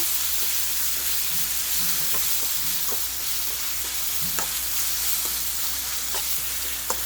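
Chopped tomatoes sauté in a hot frying pan with a steady, even sizzle, and a few soft stirring clicks rise above the continuous hiss.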